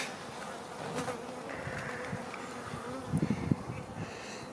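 Honeybees buzzing at a beehive: a steady, faint insect drone with several individual bees flying close by and passing, without speech.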